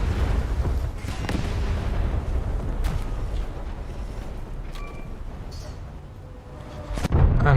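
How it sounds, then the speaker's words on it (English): Warship gunfire and torpedo launches in a naval combat video game, with steady low rumbling battle noise, scattered booms and pops throughout, and a louder burst near the end. "Time to launch torpedoes, I guess."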